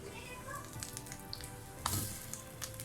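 Mutabbaq fries on a lightly oiled tawa griddle over medium-low flame, a soft steady sizzle with faint crackles and one brief louder hiss, quiet and close.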